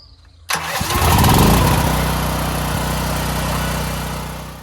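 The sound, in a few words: portable generator engine starting after CO sensor bypass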